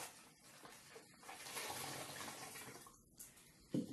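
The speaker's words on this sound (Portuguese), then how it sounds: "Primeiro, vamos colocar o vinagre dentro da garrafa." Vinegar pours from a container into a 1.5-litre PET bottle, a steady liquid gurgle and splash that swells in the middle and trails off, with a short clatter near the end.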